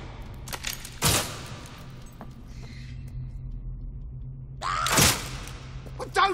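Gunfire in the video game Fable II comes as two sharp loud bursts, each standing clear above a low game rumble, with a third smaller crack at the end.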